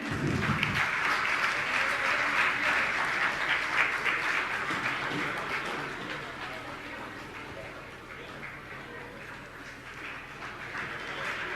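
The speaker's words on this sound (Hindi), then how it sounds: "आप लोग तालियां बजाते रहें।" Sustained clapping from a large audience at a Jain religious discourse, a dense, even roar of hands that gradually softens toward the end before swelling slightly again.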